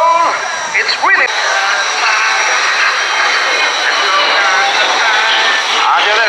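Military jet display aircraft roaring past at the RIAT Fairford air show, a loud sustained jet-engine rush with shifting whine, a commentator speaking briefly at the start over the din.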